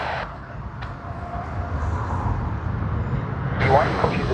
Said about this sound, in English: And takeoff roll has begun.